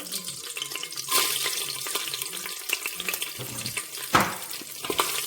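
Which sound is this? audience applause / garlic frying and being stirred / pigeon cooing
garlic frying and being stirred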